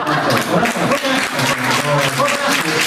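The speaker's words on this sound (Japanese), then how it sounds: "なんで拍手なの" An audience claps steadily throughout at a live concert at the Goroukou no Yu venue, a dense, continuous patter with voices talking over it.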